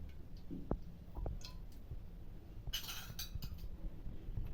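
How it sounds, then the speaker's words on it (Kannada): Metal spoon clinks and scrapes against a heated pan as about five spoonfuls of oil go in for lemon rice, a few sharp close taps over a low kitchen hum, no talk. "ಒಂದು ಐದು ಸ್ಪೂನ್ ಎಣ್ಣೆ ಹಾಕ್ತಾಯಿದ್ದೀನಿ"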